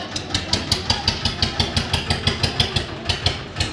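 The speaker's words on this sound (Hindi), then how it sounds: "ट्रैक्टर मोड़ लिया भाई" Tractor engine running steadily as it turns in a farm field, with a regular, rapid thumping beat, fairly close and moderately loud, with no voices over it.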